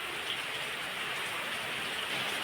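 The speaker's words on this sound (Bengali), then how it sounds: "আর দেখো আবার বৃষ্টি শুরু হয়ে গেছে" Rain falling during the Puja festival season, a soft, steady hiss of drops on surfaces, even and unbroken, heard alone without any voices.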